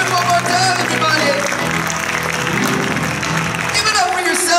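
An audience applauds at a live Broadway-style musical show in Kansas City. Dense, steady clapping and crowd noise fill the room, and a voice talks loudly over the applause throughout.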